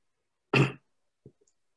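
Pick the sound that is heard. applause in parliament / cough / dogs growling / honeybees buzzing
cough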